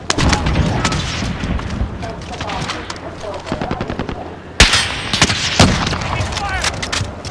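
Sniper and automatic gunfire in a battle-royale style shooter game, sustained dense volleys of shots with two sharp louder cracks near the end, loud and close, with a player talking over it.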